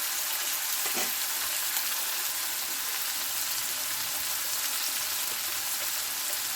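Ginger-garlic paste with spices sautéing in a pan, a steady soft sizzle and fry with an occasional faint stir, continuous and alone.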